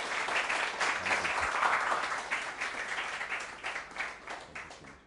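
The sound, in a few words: audience applauding to welcome speaker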